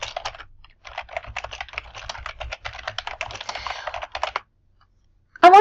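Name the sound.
typing on a computer keyboard to fill out a form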